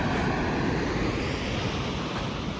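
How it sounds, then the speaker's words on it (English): A large waterfall in Europe with a heavy volume of water pouring over it, heard as a loud, continuous broadband roar with no pauses and no voices. "Would you look at the volume of water flowing over that waterfall?"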